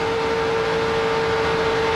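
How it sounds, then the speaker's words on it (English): A stock car engine held at full throttle during a 2002 NASCAR race, droning as a steady, loud, unbroken roar with a constant high tone and no talk. "if you can hear the engine in Sauter's car, even from the bump, he never backed off the throttle"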